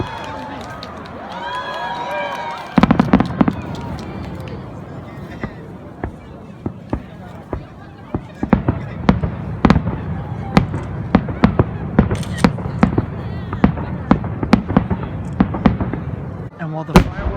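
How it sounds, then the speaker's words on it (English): Fireworks go off in a rapid string of sharp cracks and pops at Yamayaki, a Japanese festival where a mountainside is set alight, with distant booms and someone talking over them. "And while the fireworks have been firing, the fire is now currently burning on the mountain."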